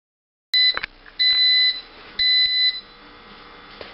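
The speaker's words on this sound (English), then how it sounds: "it just beeped, letting me know that it's done." A Hamilton Beach Home Baker 29881 bread machine beeps three times when done, in steady, evenly spaced electronic tones, each about half a second long, clear and close, with a quiet room behind.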